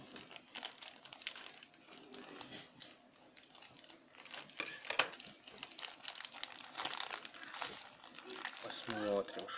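Plastic packaging of a large parcel from China crinkles and tears in bursts of rustling while someone talks quietly throughout.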